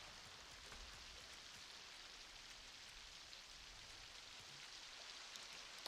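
Steady rain falls in the video game Lego Fortnite, a continuous even hiss of droplets on surfaces that stays constant throughout without gaps, with no talking over it.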